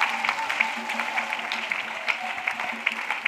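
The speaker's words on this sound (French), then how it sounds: "Let us clap for Jesus." A church congregation claps for Jesus, a steady, moderately loud patter of many hands with regular accents, heard on its own without talking.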